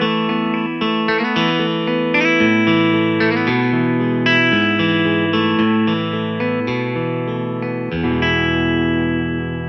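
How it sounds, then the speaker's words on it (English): Clean electric guitar voice played on a Yamaha Tyros 5 keyboard, a sustained run of chords and single notes played continuously at steady volume, close and alone with no talk. "if I have, for example here, a clean guitar sound, it sounds like this"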